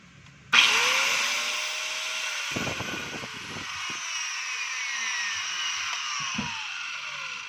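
A DeWalt DWE8200PL 4-inch angle grinder switches on with a sudden whine, runs at a steady high-pitched roar and slowly spins down, with some clunks and handling knocks close by.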